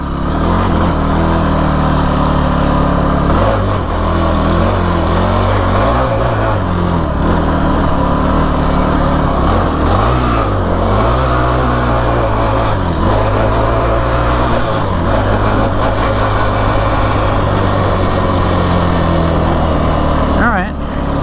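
A Kawasaki KFX 450R quad's engine runs steadily in first gear, a loud, continuous drone with slight rises and dips in pitch as it rolls along slowly, up close throughout.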